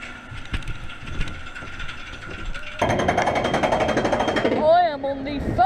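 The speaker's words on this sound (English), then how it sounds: "I am on the Family Star spinning coaster." Family Star spinning coaster running at Pleasure Beach, Great Yarmouth: a mechanical chattering rattle grows louder midway into a steady rumbling clatter of the ride, with a voice talking over it.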